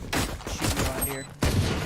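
Gunfire bursts in a tactical shooter round after the spike is planted, with two loud clusters of shots separated by a brief lull, close and sharp, with a player talking over part of it.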